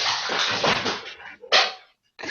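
A dog barks nearby during a Transformers and action figure podcast recording, several loud, harsh barks in quick succession with short gaps between them, then a pause before one more burst.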